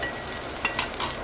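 Onion adai dosa batter frying on a hot pan, a steady soft sizzle with a few brief scraping or stirring touches, close and moderately quiet.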